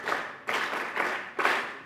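Audience clapping for student guild presidents at a formal gathering, arriving in several short bursts of hand claps separated by brief gaps, moderately close and without talk.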